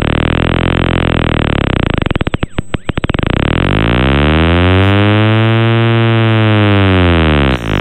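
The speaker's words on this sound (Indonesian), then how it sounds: "Ini adalah suara dari virusnya bener-bener ya." Loud, harsh electronic buzzing blares from a computer infected with the Lixo.EXE trojan, a steady droning tone with a burst of stuttering glitches partway through, then sweeping, warbling pitch bends before it cuts off abruptly.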